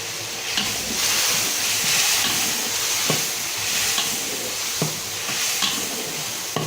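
Blended onion paste frying in a pan with turmeric makes a continuous close sizzle, broken by a few sharp clinks and scrapes of a spoon stirring, with no talking.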